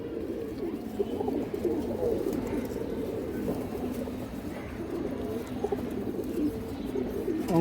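Pigeons coo steadily in a loft of fancy breeds such as stone-eyed chila, army, baga and high flyer pigeons, with overlapping low throaty calls at close range and a constant murmur of birds throughout.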